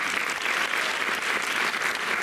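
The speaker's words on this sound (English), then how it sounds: "So, round of applause for them." A theater audience at the El Paso Gridley Showtime 2026 show gives steady, enthusiastic applause, dense clapping that stays loud and even from start to finish.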